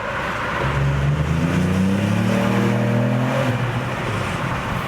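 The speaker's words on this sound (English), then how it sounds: "So once more, down with the window, view speed, second gear." A Ford Puma ST, a 2021 car with 200 hp, pulls through a tunnel in second gear with the window down, its engine note rising steadily in a loud, close, sporty drone that echoes off the walls.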